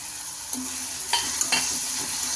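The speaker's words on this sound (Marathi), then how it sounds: "ते सुद्धा असे व्यवस्थित मिक्स करून घ्यायचे आहेत फोडणीमध्ये" Cabbage and beans stirred into hot tempering oil: a steady sizzle with a few sharper scraping strokes of a spoon against the pan, close by, no voices.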